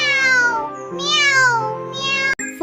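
A cat meows in a long, drawn-out cry that bends up and then falls, followed by a shorter second call, close and clear with nothing else underneath.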